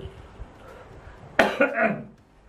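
A single sharp cough bursts out after a quiet stretch of low murmuring, followed by a short throaty trailing sound.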